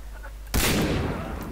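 A single loud, sharp gunshot in the multiplayer shooter Far Cry 3 bursts close and sudden, then trails off into a lingering rumble.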